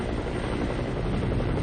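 A Red Cross helicopter flies over Afghanistan toward the Iranian border, its rotor and engine giving a steady, loud, close roar with no break and no voices.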